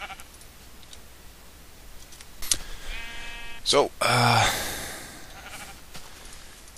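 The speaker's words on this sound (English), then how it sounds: "I'm actually gonna kill this sheep" Sheep in the Minecraft video game bleat several times in short wavering cries, clear and close in the game audio, while someone talks briefly over them.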